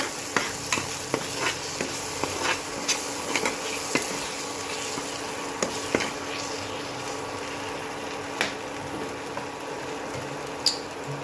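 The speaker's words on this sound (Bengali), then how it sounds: "এবার অ্যাড করছি একটু জল" Water added to a pan of Bengali egg curry (dim kasha) cooking on the stove, with a steady close sizzle and scattered stirring clicks and scrapes of a spoon against the pan throughout.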